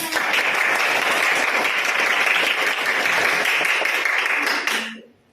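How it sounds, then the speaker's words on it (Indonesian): A classroom of students applauding, steady dense clapping held at an even level for about five seconds before cutting off quickly at the end. "Kasih tepuk tangan dulu"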